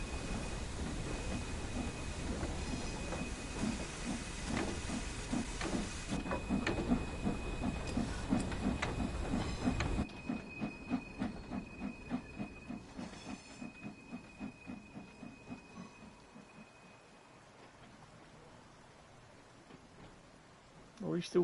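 A steam locomotive shunting wagons in the Train Sim World 3 railway simulator at Peak Forest, chuffing in a rhythmic series of exhaust beats with a steady hiss, the beats slowing and fading toward the end.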